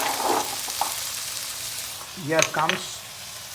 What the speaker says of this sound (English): The frying itself is making it tasty